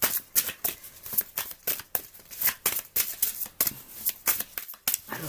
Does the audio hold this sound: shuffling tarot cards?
yes